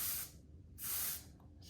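Hairspray is sprayed into hair in two close, hissing bursts, the second one longer, with a short quiet gap between them.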